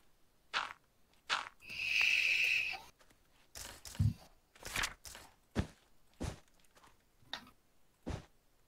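Footsteps in the RLcraft Minecraft video game, a series of soft, close, irregularly spaced thuds, with one longer scraping hiss in between, and no talk.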